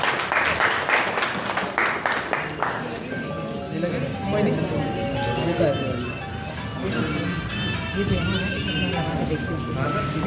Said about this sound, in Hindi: सो एक बार उनके लिए भी जोरदार तालियां हो जाए एक बार